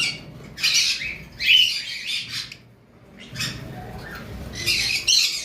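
A breeding pair of caged birds on a farm, a yellow male and a creamino female, give loud, harsh squawks in several close bursts separated by short pauses.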